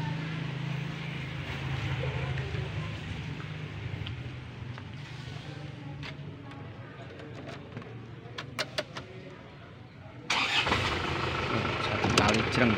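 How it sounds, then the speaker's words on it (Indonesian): An Isuzu Panther LS diesel engine is cranked and fires, the starter churning briefly before the engine catches and settles into a steady idle, with birds chirping nearby and someone speaking early on. "Coba kita hidupin mesinnya."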